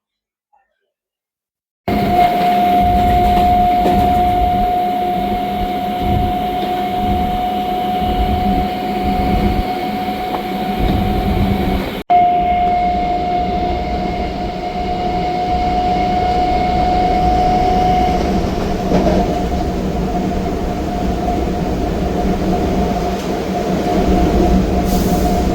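An emptied commuter train running toward Madhabnagar station in the evening, a steady loud rumble of wheels and carriage with a sustained whine, continuous for most of the stretch after a brief silent start.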